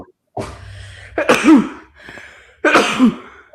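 Two sharp bursts, a sneeze followed by another, loud and close, separated by a brief pause, with no talking.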